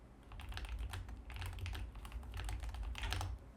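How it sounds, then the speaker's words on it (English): Rapid clicky typing on a mechanical RGB keyboard, close to the mic, with steady bursts of sharp key clacks and short pauses between runs, no voices. "You like clickety-clackety keyboards?"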